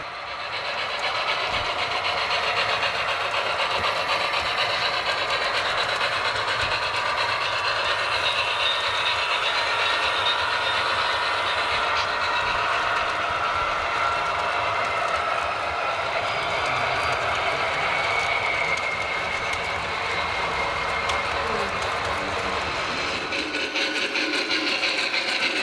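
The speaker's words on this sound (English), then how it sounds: "you're seeing the train going through the Selby and Olean section" Continuous rumbling and clicking of an HO scale model train running along layout track, a steady mechanical whir with faint rhythmic clatter, fading slightly at the end.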